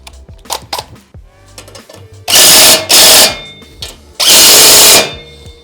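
A power tool drives bolts into a motorcycle exhaust in two loud, close bursts, each about a second long, following some lighter clicks and handling noises.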